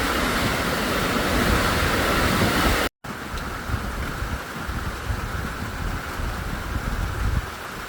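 Steady rain driven by wind pours onto an outdoor deck and a rainwater catchment at early morning, a dense continuous hiss with gusty rumble, loud and unbroken apart from a momentary dropout.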